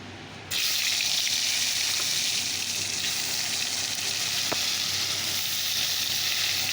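Pointed gourd (potol) pieces, rubbed with salt and turmeric, hit hot oil and break into a loud, steady frying hiss that holds evenly to the end, with one faint tap partway through.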